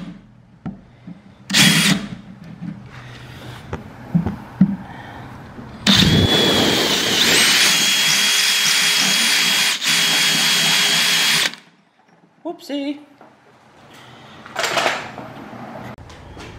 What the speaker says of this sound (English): gotta pre-drill a hole